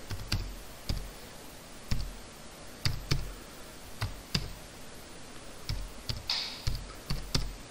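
Someone types an email address on a computer keyboard: a steady run of distinct key clicks with brief pauses between bursts, close and fairly quiet, with no talking.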